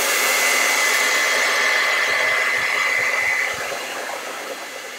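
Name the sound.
hair dryer drying a painting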